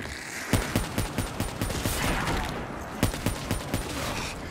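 Rapid automatic gunfire in a Call of Duty Zombies match, loud bursts of close shots in quick rhythmic strings with short gaps between them.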